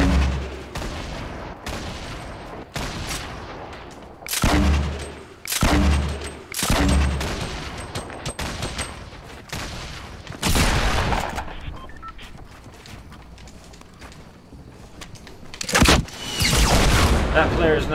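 Repeated gunfire bursts in Fortnite, sharp broadband shots and booming blasts spread across the span, some in quick clusters, loud and close, with someone talking between and over them.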